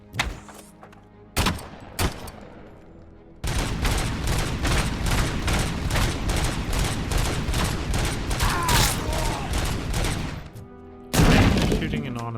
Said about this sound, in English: Shooting an automatic, I suppose.